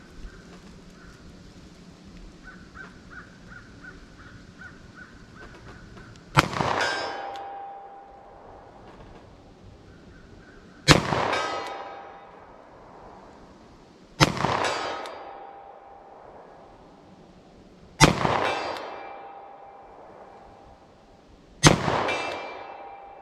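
A 10mm revolver fires Remington Core-Lokt/HTP rounds, five loud, sharp reports spaced a few seconds apart, each ringing out with a decaying echo over a quiet outdoor background and a faint electronic beeping before the first shot.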